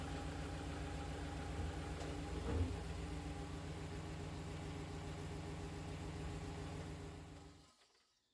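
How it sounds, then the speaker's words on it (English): Ram 1500 pickup truck engine running at a steady low idle, a constant close rumble with a brief swell near the start, fading away at the very end. "I'm going to fire the engine up"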